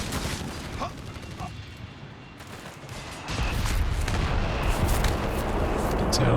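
An artillery barrage called in by a captain in Company of Heroes 3 rumbles and booms continuously, growing heavier and louder partway through, with mechanical clanks and dense explosive noise throughout.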